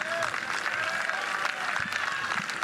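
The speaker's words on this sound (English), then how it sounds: "And you get the round of applause as well." Crowd applause at a college softball game between the Jacksonville Dolphins and the Florida Gators, a steady, sustained wash of clapping across the stands with some voices mixed in.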